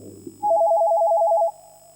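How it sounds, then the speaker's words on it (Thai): A telephone rings once, a loud warbling electronic tone lasting about a second before cutting off abruptly, with a faint low hum underneath. "เอาขอรับสายโทรศัพท์ก่อน"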